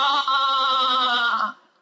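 A human voice imitates a male goat bleating, one long wavering nasal bleat held for about a second and a half, close and loud, then cut off.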